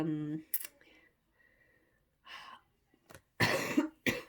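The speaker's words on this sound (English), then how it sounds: "I do still have this cough" A few sharp, close coughs in separate bursts, the last ones loudest, with a brief stretch of a voice at the start and quiet gaps between.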